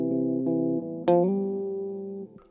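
Electric guitar chords ring out through a Behringer UV300 vibrato pedal set to a subtle depth, sustained notes with a gentle wavering pitch, a fresh strum partway through, clean and close with no voice.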